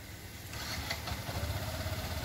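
A car engine in a manual-transmission driving lesson starts in neutral and settles into a steady, low idle rumble, growing slightly louder after the first half second, with no talking.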